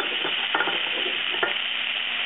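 Green onions sizzle in melted butter in a pan as they are stirred, a steady frying hiss with a few soft scrapes, close and moderately loud, no voices.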